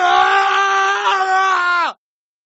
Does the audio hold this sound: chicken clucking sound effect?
no